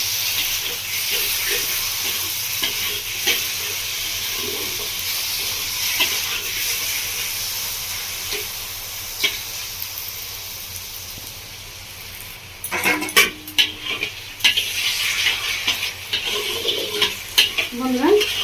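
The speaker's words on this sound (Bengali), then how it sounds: "নাড়াচাড়া করে নিয়েছি।" Pineapple chutney with sugar stirred in a pan over a medium gas flame, Bengali village style: a steady sizzle and hiss with soft scraping strokes throughout, turning busier and more clattery near the end.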